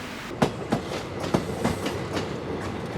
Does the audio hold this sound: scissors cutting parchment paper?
no